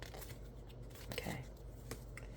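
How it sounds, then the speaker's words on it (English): A deck of cards being shuffled by hand, heard as a few quiet, close papery riffling bursts with faint handling noise in between. "I'm just going to give this a good shuffle here."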